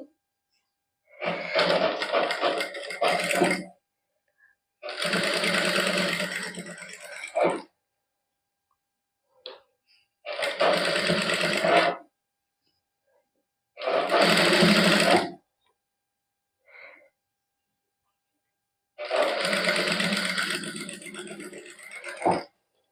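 A sewing machine stitches down a folded sleeve edge trimmed with gota patti lace, running in five separate bursts of a few seconds each, with short silent pauses between them and no talking.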